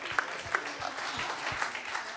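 An award-ceremony audience gives light, scattered applause, individual claps spaced irregularly at moderate loudness under a roomy hall ambience.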